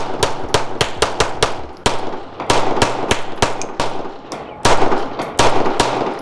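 A cheap 2011-style pistol fired rapidly and loudly during a high-round torture test, sharp close shots in quick uneven strings with brief pauses between bursts.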